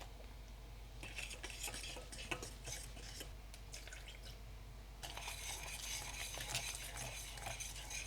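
A utensil stirs rice flour crepe batter made with soy milk, giving steady close scraping and clinking against the bowl with wet liquid swishes. The stirring grows livelier toward the end, and nobody speaks.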